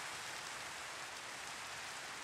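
Steady, dense rain in the Minecraft video game hisses continuously at an even level, with no voices over it.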